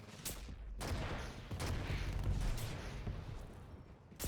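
Railgun shots in the arena shooter Quake Champions, a run of sharp loud blasts with booming low-end tails, several distinct hits spaced about a second apart over continuous game noise.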